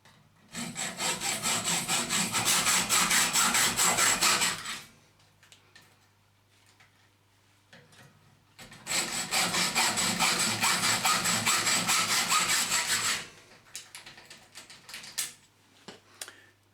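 Hand sawing through scrap metal clamped in a vise: two long bursts of steady, rapid back-and-forth rasping strokes, close and loud, separated by a quiet pause, with a few lighter scrapes at the end.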